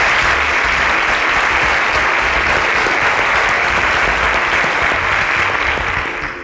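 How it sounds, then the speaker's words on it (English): An audience breaks into loud, steady applause that holds for several seconds and tapers slightly at the end, with no talk over it. "round of applause for her"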